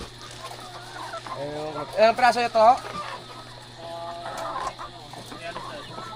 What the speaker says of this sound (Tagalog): Ayan yung mga manok oh. Ang dami.